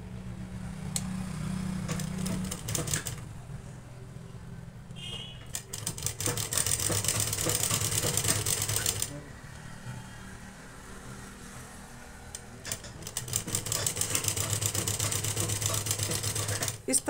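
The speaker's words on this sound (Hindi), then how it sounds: "2 सूत पे सिलाई चलाते जाएंगे" An electric sewing machine stitches along a fabric cord in several bursts of rapid whirring, pausing between runs, close and fairly loud.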